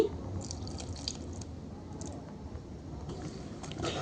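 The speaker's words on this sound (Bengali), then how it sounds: "আরও এক কাপ জল দিয়ে দিচ্ছি" Water is poured from a cup into cake batter made with flour and eggs, a soft continuous liquid trickle and splash, close and fairly quiet, with no talking.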